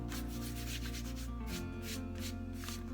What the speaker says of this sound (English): so all that paint that was peeling up, just gently take your hand and rub